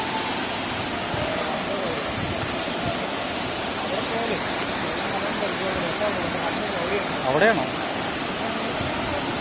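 Punnayar waterfall roars as a steady, dense rush of falling water that fills the whole span evenly, with a person briefly speaking near the end over the constant noise.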